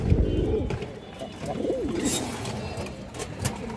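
Pigeons coo repeatedly with soft, throaty warbling calls close by, over a background of rustling and faint voices.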